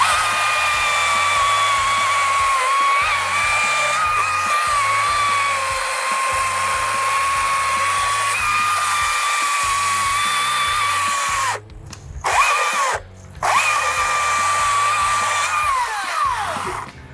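A 20-inch chainsaw cutting wood in a head-to-head saw comparison, with a loud, steady high-pitched motor whine that holds for about eleven seconds, then briefly cuts out twice before resuming near the end.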